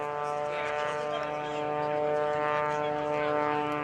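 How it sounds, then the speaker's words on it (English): A Cessna 182 single-engine plane lands with flaps down at an air national guard open house and airshow, giving a steady, droning engine tone with strong sustained harmonics throughout. "Here comes the Cessna 182, nice flap landing"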